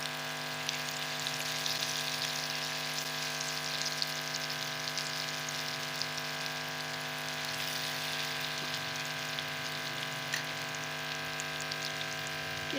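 Moong dal mangochiyan frying in a pan of oil, a steady continuous sizzle and crackle with a faint constant hum behind it, moderately loud and unbroken for the whole stretch.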